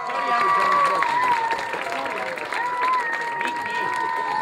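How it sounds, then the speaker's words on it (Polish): A crowd at an outdoor charity run cheers and claps continuously, a busy mix of clapping and raised voices with whistles or shouts held over it. "Wielkie, wielkie brawa, wielkie brawa!"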